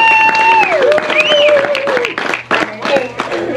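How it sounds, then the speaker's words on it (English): Audience applause at a Wild West show in Tombstone, Arizona, steady clapping mixed with whistling and a voice over the top, sustained through the whole stretch. "A big round of applause for Marshall Bates."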